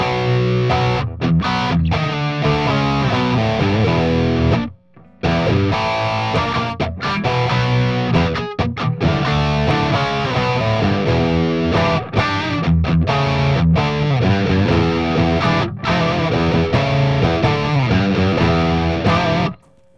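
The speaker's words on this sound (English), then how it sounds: "So I'm going to start first with the Waza Overdrive." Electric guitar played through a BOSS Katana amp with the Waza overdrive effect, giving a crunchy, biting rock tone in dense riffs and chords, loud and continuous apart from one brief stop near the middle.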